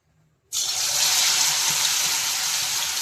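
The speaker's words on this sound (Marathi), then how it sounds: "या पद्धतीने गट्टे आपल्याला कापून घ्यायचे आहे आणि तेलामध्ये तळायचे आहे" Sliced besan gatte drop into hot oil and set off a sudden loud, dense sizzle that holds evenly after a brief quiet start, with no voices.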